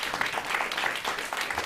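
Dense audience applause at an agricultural climate-resilience panel, a steady wash of many hands clapping together without a break, moderately loud and continuous.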